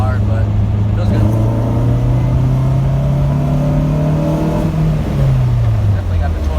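A K24-swapped Toyota MR2 pulls hard through third gear, its engine note climbing steadily in pitch for several seconds before dropping at the shift, loud and close from inside the car.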